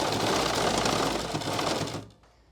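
A sewing machine stitches a plate onto a salwar in a fast, even whir of needle strokes close by, then stops abruptly and leaves near silence.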